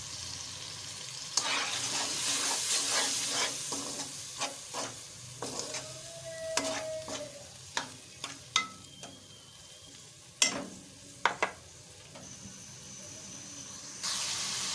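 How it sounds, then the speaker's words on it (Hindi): Spices sizzling in hot oil in a pan for aloo shimla mirch, a steady frying hiss broken by occasional sharp pops and stirring scrapes, close and moderately quiet. "हमारा मसाला अच्छे तरीके से फ्राई हो रहा है"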